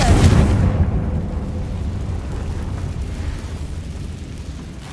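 A Confringo blast spell in a Harry Potter video game erupts as a loud, booming explosion at the start, then trails off into a sustained low rumble that fades slowly over several seconds.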